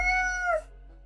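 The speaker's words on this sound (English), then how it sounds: "Meow, the cat meows." A single cat meow, a clear tonal call sliding down in pitch and cutting off, heard alone.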